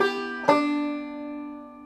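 Old-time banjo picks out a single plucked note that rings and slowly decays, close and clean with no voices.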